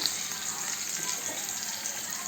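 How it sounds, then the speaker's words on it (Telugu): Curry leaves and onions frying in hot oil for a bottle gourd curry give a steady, close sizzle that holds even and unbroken throughout. "ఇట్లానే కరివేపాకు అంతా ఇట్లా వేగే వేగినంత వరకు వేయించుకొని"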